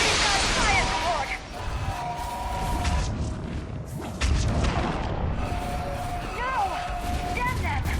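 Artillery fire support in Mass Effect 3 pounds in continuous deep booms and crashes amid a loud battle soundscape, with shouting voices and whistling effects layered over the barrage.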